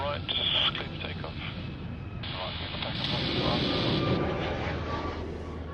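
A jet airliner rolls for takeoff on runway 34 right at Sydney Airport, a broad steady engine roar that swells toward the middle of the clip, with air traffic control radio chatter heard over it.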